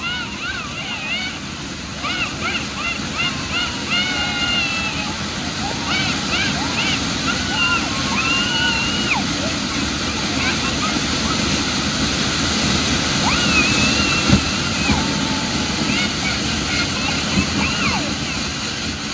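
A Sivakasi fountain firework, a new 2023 variety, sprays sparks with a steady, rushing hiss that lasts the whole stretch. Faint whistling tones rise through the noise, and voices can be heard underneath.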